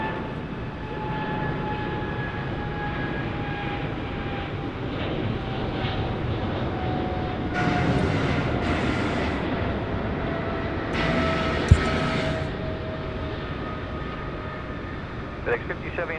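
Jet airliners depart Sydney Airport at night, a distant rolling engine roar with faint radio chatter and a nearby voice over it.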